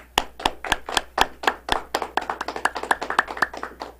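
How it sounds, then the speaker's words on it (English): A handful of people clap for the Toastmaster at a small Cincinnati TV Toastmasters club meeting, sharp distinct hand claps close by, starting slow and spaced then quickening into a brisk patter. "Let's give our Toastmaster a round of applause"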